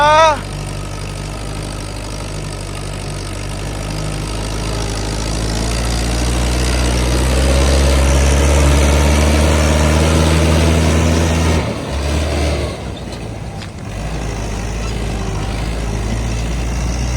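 A farm machine known as udna jahaz idles loud and close, a steady low rumble that swells slightly over time before briefly dipping and resuming; it is used for paddy harvesting with a 17-foot trolley.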